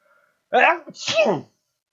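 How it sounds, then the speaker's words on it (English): A single loud sneeze in two bursts, a sharp inhale-like onset followed by the explosive release, close to the microphone in otherwise quiet surroundings. "I'm gonna sneeze."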